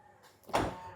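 A Tesla Model Y power trunk swings shut, a rising motor whir building to a firm thump near the midpoint, then a settling hum; close and alone, with no talk.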